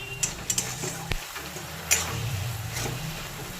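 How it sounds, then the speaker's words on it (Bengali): A coconut and jaggery filling is stirred in a pan, giving soft scraping and a gentle sizzle with a few sharp utensil clicks against the metal. "এবার এইভাবে করে নাড়তে থাকবো তাহলে এই জলভাবটা শুকিয়ে গেলে আমার গুড়টা তৈরি হয়ে যাবে"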